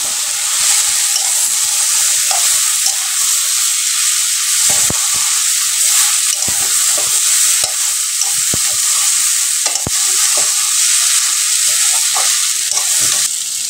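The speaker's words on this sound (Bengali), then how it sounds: "আমি এবার ভেজে রাখা চিংড়ি মাছগুলো যেটা দিয়ে দেবো," Prawns and figs fry together in a pan, giving a loud, steady sizzling hiss with scattered clicks and pops of stirring throughout, and no voices.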